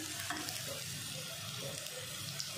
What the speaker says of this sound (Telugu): నేను ఒక 3 బనానా మాత్రమే తీసుకున్నాను. బనానా ఫ్రై చేస్తున్నాను.